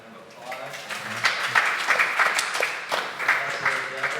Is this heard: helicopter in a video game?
no